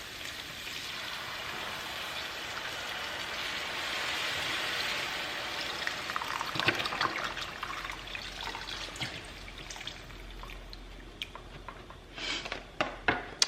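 Carton of bone broth poured into a cooking pot for chickpea curry, a steady liquid gush for several seconds that thins into trickles and final drips, near and clear with no talking.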